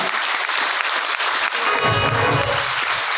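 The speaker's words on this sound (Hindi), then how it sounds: "एक बार जोरदार ताली से वेलकम करेंगे सभी का" A dense burst of enthusiastic clapping fills a large meeting hall of RCM business attendees, welcoming first-time guests, steady and loud throughout with a low murmur of the crowd rising near the end.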